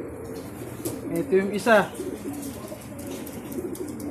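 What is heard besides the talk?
racing pigeons cooing at the loft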